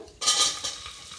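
Chopped onion hits a hot pan with cumin for tomato bath, breaking into a sudden bright sizzle that fades gradually over about a second, with no voices.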